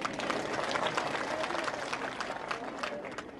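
Dense crowd applause at an outdoor political rally, steady clapping from many hands throughout, fairly loud and continuous with a faint murmur of voices mixed in.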